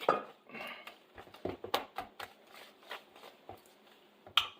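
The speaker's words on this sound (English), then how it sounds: "I'm just whisking until this is combined" Muffin batter for chocolate muffins being whisked in a bowl: close, irregular clinks and scrapes of the whisk against the bowl in quick bursts, with no voices.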